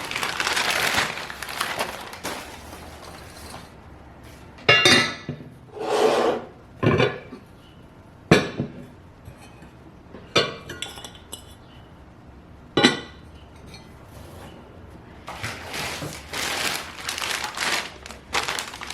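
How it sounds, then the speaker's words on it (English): A lidded ceramic vegetable dish from an Old Country Roses set being handled, with repeated scraping, rubbing and sharp clinks of porcelain against porcelain, spread over nearly twenty seconds in a quiet room. "A second vegetable dish with lid."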